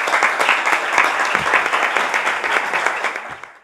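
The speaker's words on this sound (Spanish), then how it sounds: "Y ahora es cuando me tienen que aplaudir" An audience at a tribute event for Alberto Elena bursts into strong, dense clapping that continues for a few seconds and then tapers off toward the end.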